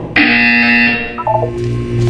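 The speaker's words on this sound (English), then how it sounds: "You will hear a buzzer. When you hear the buzzer, look up at the ceiling." A loud electronic buzzer from the Portal 2 video game sounds as a sustained harsh tone, then steps into a brief lower warbling pattern and a steady hum, alone with no talk.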